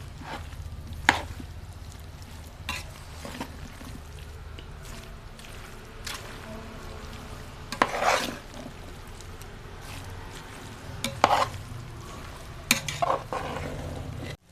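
Stirring asafoetida powder into a homemade mango pickle mixture, a soft continuous squishing and scraping with a few sharper clacks of the spoon against the container, steady and close with no voices.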